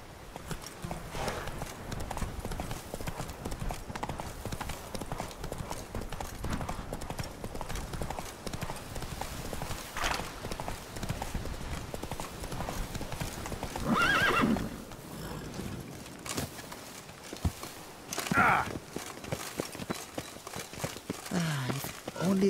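Horse in the video game The Witcher 3, with steady hoof clip-clops running throughout and two distinct neighs standing out, under voices and game ambience.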